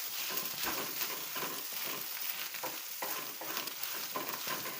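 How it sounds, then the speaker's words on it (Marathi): Coarsely ground fresh coconut roasting on full gas in a pan, a steady close crackling sizzle with repeated stirring scrapes pulsing through it. "तर हे थोडंसं फुल गॅसवर व्यवस्थित परतून घ्यायचं आहे."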